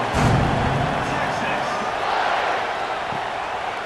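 Stadium crowd noise in EA Sports College Football 26 at a Texas A&M Aggies vs Texas Longhorns game, a steady, loud roar of many voices building before the kickoff, sustained throughout with no distinct breaks.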